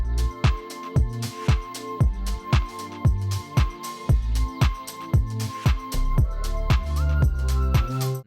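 Lo-fi house music with punchy kicks on a steady four-beat pulse and a sustained sidechained synth pad that ducks and swells rhythmically around each kick.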